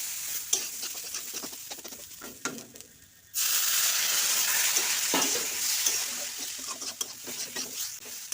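Semolina upma stirred in a pan as water is added a little at a time, with scraping stirs at first, then a sudden loud, steady sizzle and bubbling from about three seconds on, continuing close and busy to the end.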